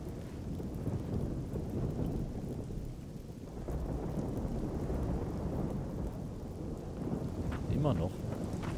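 A thunderstorm in the video game Risen 2: Dark Waters, with steady, dense rain hissing throughout and low rumbling thunder rolling underneath. It stays loud and continuous for the whole stretch, with a brief vocal-like sound near the end.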